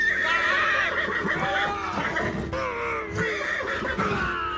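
Horses neigh and whinny loudly and repeatedly, shrill cries overlapping amid a noisy, agitated background.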